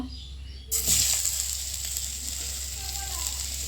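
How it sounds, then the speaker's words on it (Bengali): Potatoes, boiled beforehand with salt and turmeric, drop into hot oil in a wok and set off a sudden loud sizzle. It then settles into a steady, close frying hiss. "এবার কড়াইয়ে তেল দিয়ে দিয়েছি, আলুগুলো ভেজে নেব।"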